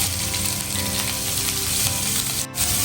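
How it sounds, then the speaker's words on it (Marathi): Ginger garlic paste sizzles and fries steadily in a hot pan with oil, a continuous close crackling hiss with a brief dip near the end, no talking. "आलं लसूणची पेस्ट आपण घालणार आहोत"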